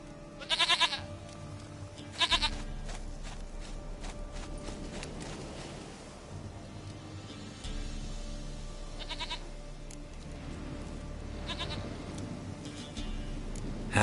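Goat bleats from The Witcher, repeated short wavering cries at intervals, the first two sharp and close, later ones softer, over a low ambient game soundscape.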